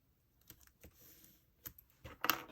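Clear adhesive tape is pulled and pressed onto a paper bag folio, giving a few short, quiet crackling rips and taps close by, ending in a sharper tearing burst.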